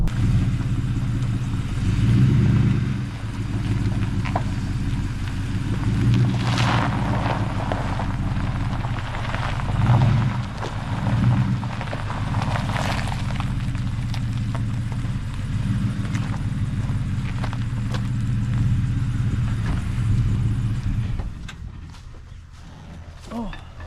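A car driving along a road, heard as a loud, steady engine and road rumble from inside the cabin for about twenty seconds before it cuts away near the end.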